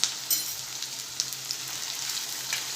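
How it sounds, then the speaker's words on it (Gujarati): Sliced onions sizzle steadily in hot oil over medium-high heat while being cooked down for biryani garnish, a close, even hiss broken by a few light stirring clicks, no voices. "થોડું તેલ લીધું છે એમાં આપણે કાંદાને ઊભી આ રીતે સ્લાઇસ કરેલી છે એ એડ કરી દઈશું"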